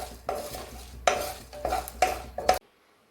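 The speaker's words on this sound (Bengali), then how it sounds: "এখন আমার গোটা লঙ্কার 5 ফোড়ন ভাজা হয়ে গেছে" Whole chillies and panch phoron spices being stirred in a pan, with several distinct scraping clanks of a spoon against the metal over a soft sizzle, ending abruptly in silence.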